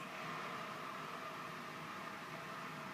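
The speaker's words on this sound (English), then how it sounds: "I guess the air conditioning came on." Air conditioning running inside a building, a steady, fairly faint broadband whoosh that holds evenly throughout without any changes or voices.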